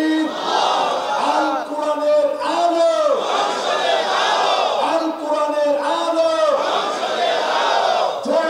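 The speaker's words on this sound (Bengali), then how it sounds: "স্লোগান" A large crowd at an Islamic religious gathering chants slogans in unison, loud rhythmic call-and-response shouts repeating in steady bursts about once a second, many voices together close and strong throughout.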